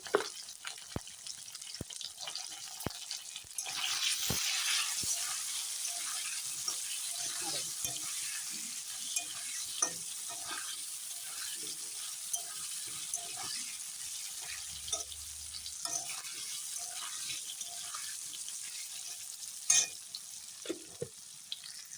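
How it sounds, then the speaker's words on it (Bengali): Potatoes frying in hot oil in a wok hiss and sizzle, louder early on and then settling to a softer crackle, with scattered clicks and clatter from stirring. "সুন্দর করে আমি আলুগুলো ভেজে নেব দেখো কড়াইতে তো তেল গরমই আছে"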